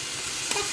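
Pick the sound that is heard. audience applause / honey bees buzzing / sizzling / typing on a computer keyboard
sizzling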